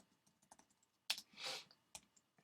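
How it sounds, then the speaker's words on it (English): Quiet computer keyboard typing, scattered close key clicks with a louder burst of keystrokes and a brief rustle in the middle, no voices. "I'm going to pause while I type."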